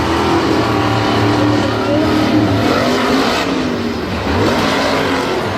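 Monster truck engine at a Monster Jam freestyle run in Salinas, roaring loud and steady with continuous revving close by, tires squealing faintly over the throttle.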